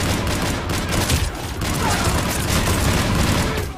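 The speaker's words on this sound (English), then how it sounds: "There's the tech explosions." Tech explosions in the video game Mass Effect 3, a dense, loud barrage of rapid popping blasts and gunfire-like bursts that run nonstop, with a player talking faintly underneath.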